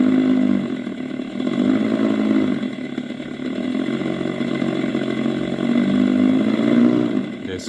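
An Ola S1 Pro electric scooter plays a simulated combustion-engine mood sound, a close, continuous growling drone that rises and falls in gentle swells as the throttle is worked.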